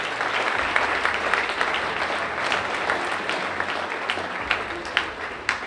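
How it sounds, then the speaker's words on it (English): At a school spring athletic awards ceremony, a crowd gives a team a sustained round of applause, dense steady clapping that slowly thins toward the end. "let's give these guys one more round of applause"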